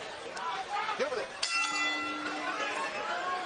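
A boxing ring bell clangs to open round 4 at a championship fight, a single bright ding with a long ringing tail under an announcer's commentary and arena chatter.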